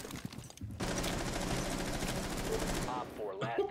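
Gunfire in a video game, a loud sustained burst of shots lasting a few seconds, close and steady, with a voice heard just before and after.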